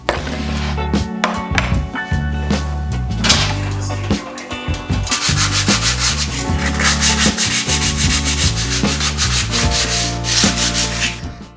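Wood filler is being sanded smooth on a wardrobe in a workshop, giving continuous scratchy rubbing strokes that grow denser and steadier in the second half, loud and close with no talk.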